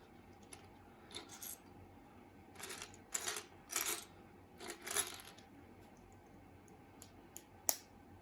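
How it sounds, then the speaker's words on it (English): LEGO bricks click and snap together in quiet, close bursts of sharp plastic clicks, scattered irregularly, with one crisp snap near the end. "Is there any sound better than the clicking of the bricks?"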